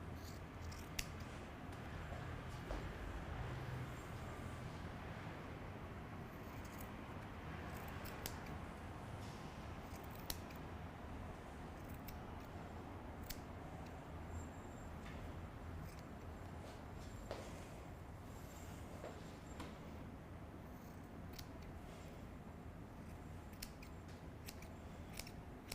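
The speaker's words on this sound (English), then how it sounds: "You can see where some really sharp scissors come in handy here." Sharp scissors snip repeatedly in a point-cutting technique on a fake beard during special-effects makeup, giving fine crisp clicks over a low steady background hum, close and quiet throughout.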